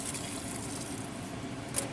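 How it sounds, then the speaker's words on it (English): Boiling water poured into a pot of braising pork ribs coated in brown sugar, giving a soft continuous pouring and splashing wash with a brief brighter splash near the end, no talk. "Now we add in the boiling water."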